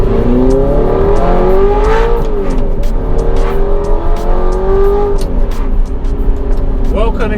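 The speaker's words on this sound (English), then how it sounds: "fitted an aftermarket exhaust in the car, which sounds insane" An Audi R8 V8 with a manual gearbox and a Top Gear F1 aftermarket exhaust drones loudly up close, its engine note swelling and falling through revs continuously for the whole stretch.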